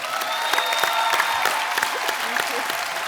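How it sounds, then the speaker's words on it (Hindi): Studio audience on The Kapil Sharma Show, an Indian TV comedy show, bursts into dense, sustained applause, a steady wash of many hands clapping close and loud with faint voices mixed in. "भारत श्रीलंका के प्यार के लिए बहुत बहुत तालियां।"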